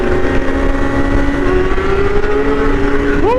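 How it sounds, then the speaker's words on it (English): Loud motorcycle engine riding on a freeway in Dallas, amid a group of bikes including a BMW S1000RR, a steady close-up drone with a rising whine of revs near the end, alone without talk. "My man bike is loud as hell"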